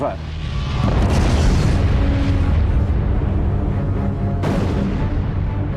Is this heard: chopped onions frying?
no